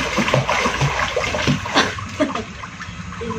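Water splashes and sloshes irregularly in a small outdoor swimming pool as someone moves through it, with uneven bursts of splashing heard up close.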